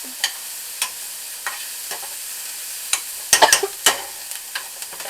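Spoon scraping and tapping in a pan as pork is mixed with adobo seasoning for cheesy Mexican stuffed zucchini, with a soft steady sizzle beneath and a brief flurry of louder scrapes near the end.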